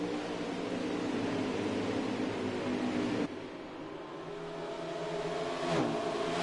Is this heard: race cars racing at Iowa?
yes